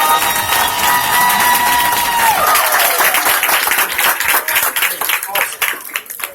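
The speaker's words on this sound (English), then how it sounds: "can y'all give my family a round of applause, please?" An audience at a business event claps and applauds. A sustained tone and voices fade into rising, dense clapping that grows more scattered toward the end.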